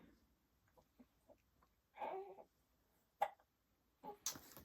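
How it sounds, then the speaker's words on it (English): A baby girl hiccups softly indoors, with a few faint, separate little hiccups and small vocal squeaks spread irregularly across a quiet room, close by but low in volume. "She's got the hiccups."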